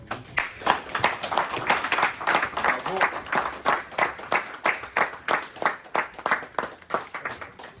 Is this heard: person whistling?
no